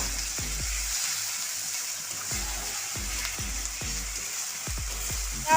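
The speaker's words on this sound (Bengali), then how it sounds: "রসুন পেঁয়াজটা ভালোভাবে ভাজা হচ্ছে।" Ginger garlic paste fries with onion in a pan for a country-style desi chicken curry, giving a steady close sizzle broken by short sharp scraping strokes of the spoon at an uneven rhythm, with no talking.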